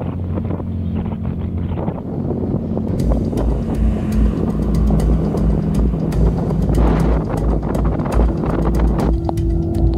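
Loud wind buffeting and a low engine rumble while riding on the road to Buscalan, with sharp crackles and taps of rain hitting scattered throughout.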